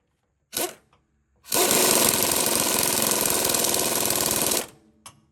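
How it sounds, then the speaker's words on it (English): A power tool removes bolts on a 1984 Freightliner cabover truck, a loud sustained hammering rattle of about three seconds, framed by a brief short burst before and a small clunk after. "We'll take these bolts out one at a time."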